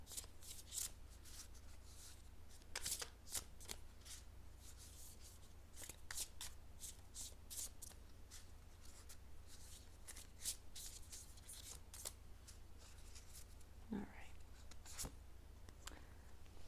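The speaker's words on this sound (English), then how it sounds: "I do like to shuffle them on camera" Tarot cards are shuffled by hand in a quiet room, soft riffles and slides coming in irregular bursts, close and faint against a low background hum.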